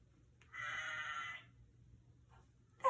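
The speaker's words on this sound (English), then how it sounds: "Can you baa like a lamb?" A lamb gives one clear, wavering bleat lasting about a second, close and distinct against a quiet background, followed by faint shorter sounds.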